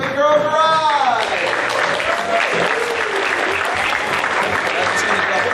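An audience at a young composers' concert night bursts into loud sustained applause, with a voice speaking over the clapping at the start.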